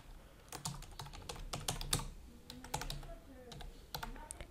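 Fingers type a password on a computer keyboard, a quiet run of irregular key clicks spaced over a few seconds, close up and alone.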